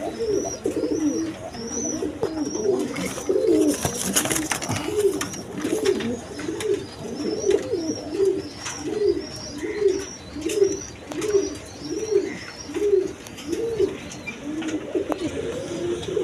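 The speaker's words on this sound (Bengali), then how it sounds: "এইখানে এক পেয়ার কবুতর আছে, হাই ফ্লাইং গিরিবাজ কবুতর" A pair of high-flying Giribaj pigeons coo close by in a regular, repeating rhythm of throaty calls that continues throughout. Fainter background chirps sit underneath.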